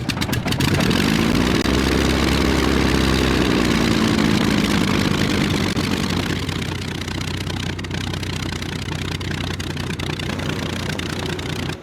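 A German WWII fighter plane engine in the Arma 3 Flying Legends mod, a loud, close, droning piston roar that rises and falls in pitch early on, then settles into a steady rumble.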